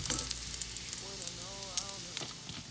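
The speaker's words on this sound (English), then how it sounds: "you just want to cook your bacon until it's done" Bacon crackles and sizzles in a pan with scattered pops, close up. A voice talks briefly over the frying.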